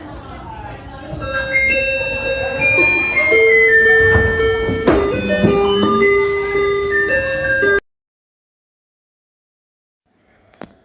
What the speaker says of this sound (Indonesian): Bel tidur pun berbunyi.